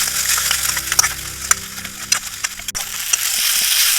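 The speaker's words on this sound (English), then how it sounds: "we can add the ginger garlic paste, which is 2 teaspoons of ginger garlic paste, and we will saute this until the raw smell goes away" Ginger garlic paste sautéed with onions in a pan for a vegetarian Chennai-style masala curry, a close, steady sizzle broken by sharp scraping knocks of a spoon against the pan.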